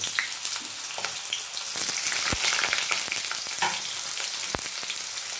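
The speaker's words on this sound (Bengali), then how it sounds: "আর আমি দিয়ে দেবো এখানে কেটে রেখেছিলাম আলুটা ভেজে নেব।" Steady hissing sizzle of potatoes frying in hot oil, with a few sharp pops and clicks breaking through the continuous crackle.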